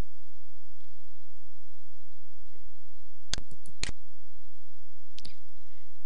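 Three sharp computer mouse clicks sound against a near-silent background, two close together and one a little later, with no voices.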